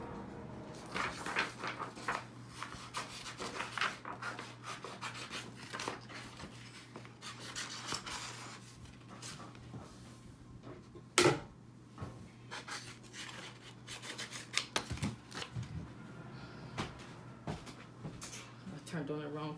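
Sublimation print paper being cut around black lines while a mug press heats up, giving quiet, intermittent scraping and snipping sounds close by over a faint steady hum, with one sharper knock partway through.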